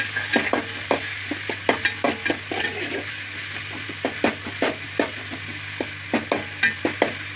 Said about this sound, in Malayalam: ഇഞ്ചി ഇട്ടു വാട്ടി തക്കാളി ഇട്ടു വാട്ടി